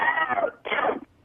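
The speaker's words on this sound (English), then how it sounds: "What is this coughing thing?" Two harsh, throaty coughs close by, one after the other with a short gap, then silence.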